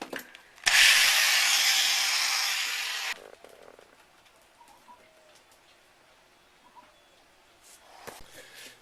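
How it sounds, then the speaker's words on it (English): An angle grinder cuts into the thick edge of a boat hull under construction, giving a loud, harsh roar that lasts about two and a half seconds and then stops. Faint knocks and handling noises follow. "I think I need to use the angle grinder"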